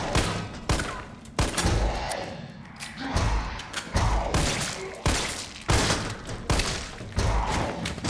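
Resident Evil 3 Remake gunshots: loud, close, sharp bangs fired one after another in an uneven rhythm, roughly a dozen reports with brief echoing tails between them.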